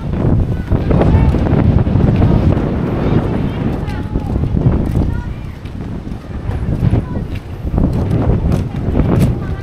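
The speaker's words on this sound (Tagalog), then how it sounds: "Lakas ng hangin, no?" Strong wind buffets the microphone with a continuous loud roar and rumble on an outdoor road trip in Ilocos Norte, while people talk over it.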